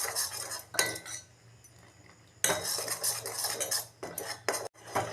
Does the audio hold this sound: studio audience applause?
no